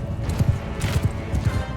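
Horse hooves galloping in the Mount & Blade II Bannerlord video game, a rapid, rhythmic clip-clop of close, moderately loud thuds in repeating bursts, heard alone with no talking.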